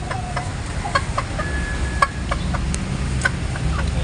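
A backyard breeding hen clucks in short, repeated bursts at close range, with sharp intermittent calls spaced irregularly over a steady background hiss.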